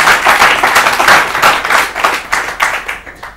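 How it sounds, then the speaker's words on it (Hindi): A quiz-show audience applauds, dense rapid clapping that is loud and close at first, then thins out and fades toward the end. "चलिए ताली बजाइए इनके लिए।"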